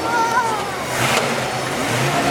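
A 1965 Ford Mustang engine revs loudly and close up, a rough, continuous roar that surges in the middle, with a thin whine at the start.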